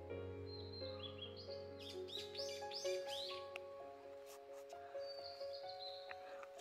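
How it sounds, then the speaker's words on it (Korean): Birds singing at Seonamsa temple in Suncheon in cherry blossom season: a few bright chirps and short trills, mostly bunched in the middle, moderately distant, over a steady low droning tone. "가만히 서서 새소리 듣고 있어요."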